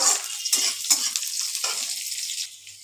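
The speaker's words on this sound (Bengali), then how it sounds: "খানিক লাল করে ভেজে নিয়ে তারপরে আমি আলুগুলো দিয়ে আবার ভেজে নেবো ভালো করে যে খানিকক্ষণ পেঁয়াজটা একটু ভেজে নিই" Onions frying in a pan until reddish, a steady close sizzle with scraping stirs of a spatula at a few irregular moments, and no talking.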